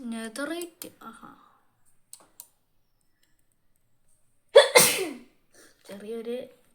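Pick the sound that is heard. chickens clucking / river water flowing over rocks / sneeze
sneeze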